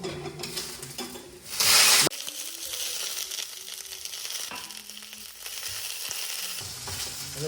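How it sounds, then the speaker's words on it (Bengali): Carrots and beans stir-fried in a pan give a steady close sizzle with scraping stirs, broken by a loud burst of frying around one moment, then settling back to a continuous crackle. "এই সবজিগুলো একটু হালকা করে নেড়ে নেবো"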